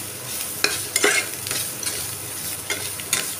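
A spoon stirs a spiced coriander mixture for paratha filling in a pan, with scattered scraping clicks and soft clatter at an irregular pace, close by and without talk.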